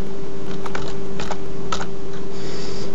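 A password is typed on a computer keyboard as short bursts of crisp key clicks in quick clusters, close and clear over a faint steady hum.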